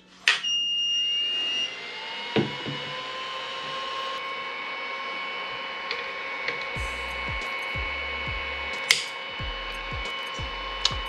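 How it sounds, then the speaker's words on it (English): A wrench torques the nozzle on a Creality Ender 5 3D printer, preheated to about 240 degrees: a few sharp metallic ratcheting clicks and taps ring out over a steady mechanical hum and thin tonal whine, with no talking. "Preheat our nozzle to about 240 and torque it down one more time."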